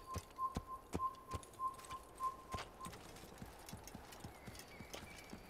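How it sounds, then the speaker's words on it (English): Horse hooves clip-clop at a steady walking pace in the Assassin's Creed video game, with crisp, evenly spaced hoofbeats and a faint whistle-like tone early on. "Magnificent horse."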